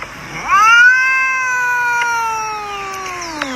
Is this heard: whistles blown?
no